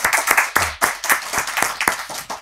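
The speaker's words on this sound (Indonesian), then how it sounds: "Tepuk tangan." Audience applause at an Indonesian talk-show taping, a run of sharp, irregular claps filling the whole short stretch at a steady, fairly loud level with no voices over it.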